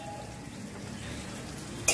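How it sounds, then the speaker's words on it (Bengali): Urad dal, already roasted, frying in a little oil for a village jackfruit curry, giving a steady low sizzle throughout with a brief louder burst near the end. "এটাকে ভালো করে একটু ভেজে নেব"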